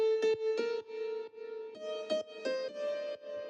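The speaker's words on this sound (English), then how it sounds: "And finally, the last layer is the piano." A light grand piano preset plays a quiet lead line of single notes, struck at an even pace and each ringing briefly into the next, with no delay or reverb and no talk.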